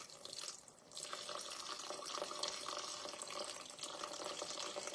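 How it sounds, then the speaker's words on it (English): Water poured into a mixing bowl to make a high-hydration sourdough and pizza dough: a steady, continuous splashing pour that runs unbroken for several seconds, fairly close, with no one talking. "So we'll put 350 grams of water right into the bowl."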